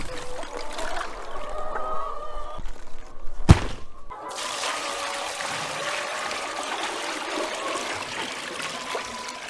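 Water trickling and pouring steadily into a chicken waterer in a farm shed during evening chores, a soft continuous stream with a single sharp thunk midway, faint and close.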